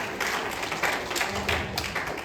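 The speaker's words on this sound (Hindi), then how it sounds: "उन सभी के लिए एक बार जोरदार ताली होना चाहिए लाइन से" An audience gives a hearty round of applause for their upline gurus at a seminar, the clapping steady and fairly close across the whole stretch, with no talk over it.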